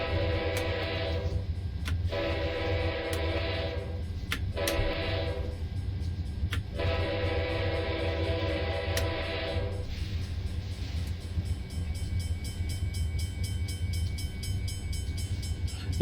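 An Amtrak Dash 8 locomotive in Train Simulator 2019 on the Peninsula Corridor rumbles steadily, its engine drone loud and constant, with several short horn blasts in the first ten seconds.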